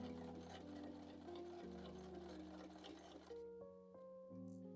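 A sewing machine runs a quick, steady stitching whir along a bag seam sewn 1.5 cm from the edge, quiet and close, then stops partway through, leaving a few soft tonal clicks.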